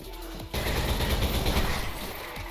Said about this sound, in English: Oh shit, that's a turret.